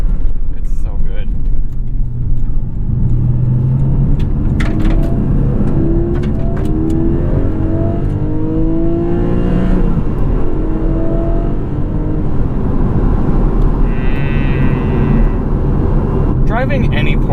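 A 2021 Porsche 718 Cayman GTS with the 4.0 engine and six-speed manual pulls hard in fourth gear. The engine note rises steadily in a sustained crescendo, loud and close, while someone talks over it.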